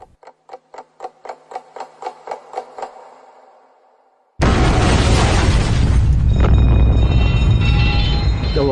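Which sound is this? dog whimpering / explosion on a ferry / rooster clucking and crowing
explosion on a ferry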